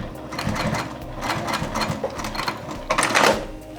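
A sewing machine bastes crossbody bag pieces in place, its needle hammering in quick rapid runs with short pauses between, close and fairly loud, with no talking.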